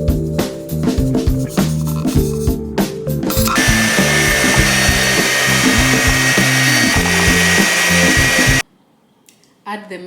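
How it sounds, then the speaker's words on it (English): An electric mixer beating eggs with sugar, a loud steady whirring motor that starts with sputtering bursts, runs continuously, then cuts off abruptly near the end, with a faint voice afterward. "beat the eggs with the sugar until the mixture becomes pale and fluffy"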